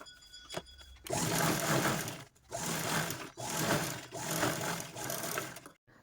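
A sewing machine stitches the zipper pocket lining of a fabric bag, running in several close, steady bursts separated by short pauses.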